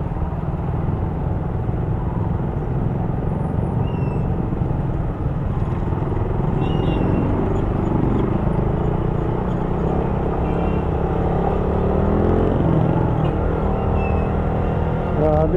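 Heavy traffic crawling along C5 Kaingin Road in Parañaque, with motorcycle and car engines forming a continuous nearby rumble and drone, shifting slightly as vehicles pass, with no talk over it.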